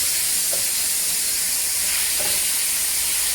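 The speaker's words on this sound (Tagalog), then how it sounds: "Igigisa ko muna siya." Pork sautéed in a pan for nilagang baboy gives off a loud, continuous sizzling hiss that stays steady and close, with a couple of faint pops.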